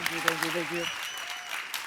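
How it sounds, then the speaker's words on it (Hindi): A television comedy show audience breaking into loud applause, a dense wash of clapping under a host's voice and background music. "एक बार गौहर और राजीव के लिए जोरदार तालियां।"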